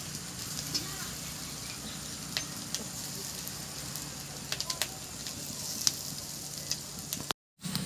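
Fried prawns and boiled potato sizzle together in a pan for prawn chops, a quiet continuous frying hiss with scattered crisp pops, close by, cut by a brief dropout near the end.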